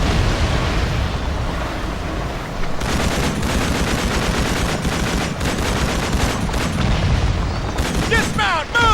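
Machine guns rattle in rapid bursts during a Call of Duty 2 battle, set amid loud booming explosions and dense combat noise that carries on throughout, with voices shouting over the fighting.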